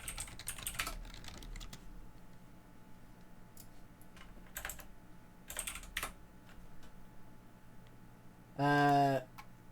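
Someone types on a computer keyboard in quick, scattered bursts of clicking keystrokes at close range, with quiet gaps between runs, before a short loud tonal sound cuts in near the end.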